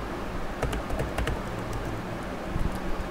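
Rapid clicking of computer keyboard keys, irregular taps in quick bursts over a steady background hiss, close to the microphone, while writing code.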